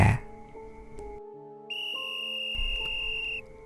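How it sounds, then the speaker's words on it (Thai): A steady, shrill whistle tone sounding for about two seconds over a layered, sustained musical background, signalling the start of a Russian roulette game in a horror story. "เสียงนกหวีดได้ดังขึ้น"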